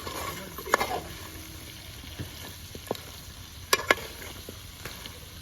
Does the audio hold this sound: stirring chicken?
yes